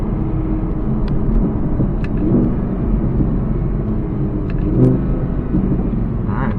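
Steady low engine burble from a 2017 Audi R8 V10 Plus in sport mode with valves open, a continuous rumbling drone with slight swells, close and fairly loud throughout.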